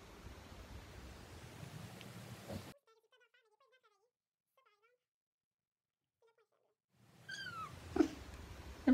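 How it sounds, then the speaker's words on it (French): A kitten meows close by during quiet moments in a room, several short high cries with a rising call near the end, alongside faint breathy voices and noise. "Il y a mon petit chaton à côté."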